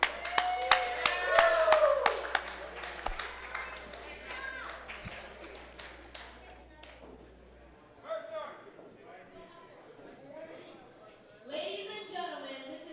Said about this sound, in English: Let's hear a round of applause for Jamie Olsen